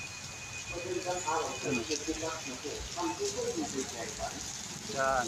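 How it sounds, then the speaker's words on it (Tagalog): Heavy rain falls on a street in a constant hiss, with someone talking over it throughout. "Lakas ang ulan."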